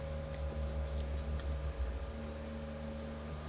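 A pen scratches across paper in short strokes under a steady low hum, soft and close, with brief pauses between bursts of writing.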